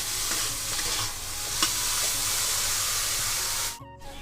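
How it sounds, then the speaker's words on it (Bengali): Eggplant frying hard in a little oil in a wok over high heat, a steady loud sizzle and hiss with faint stirring scrapes, cutting off abruptly near the end. "কড়াইতে বেগুনটা আমি ভাজতে বসিয়ে দিয়েছি।"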